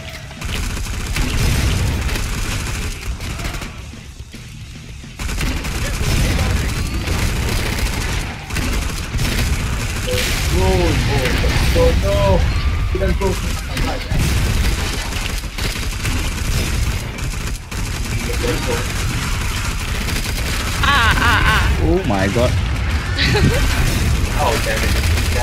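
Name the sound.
poison explosions in video game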